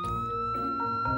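Police car siren in a Roblox game, a steady sustained electronic wail with layered tones, loud and continuous, heard alone without talk.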